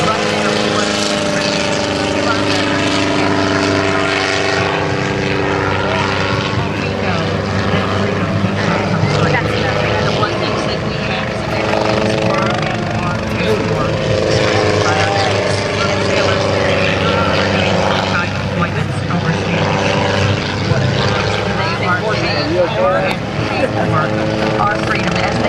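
A helicopter's rotor drones loud and steady throughout at an airshow, a continuous thrumming roar with no breaks.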